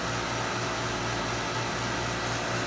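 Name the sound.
boat air conditioner system running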